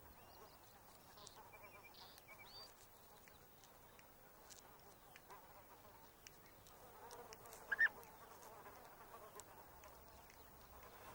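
Many insects buzz faintly and continuously around flowering fennel outdoors, a thin steady drone with one slightly louder pass near the end.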